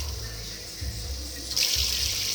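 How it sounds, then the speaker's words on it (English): Running tap water steadily filling a bowl in a kitchen while rice is washed before cooking, a continuous close splashing stream that brightens and grows louder partway through. "you need to wash the rice"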